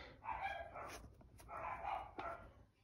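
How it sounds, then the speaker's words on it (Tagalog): Several dogs bark and yip in quick bursts nearby, a short noisy flurry of barking. "Sensya na kayo maingay yung mga aso namin."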